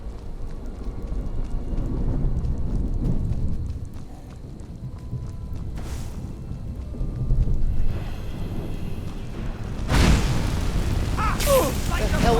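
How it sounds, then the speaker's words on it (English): Steady rain hiss runs under rolling rumbles of thunder in a Skyrim game world, with a sharper crack near the end and a voice speaking over parts of it. "Been raining a lot lately."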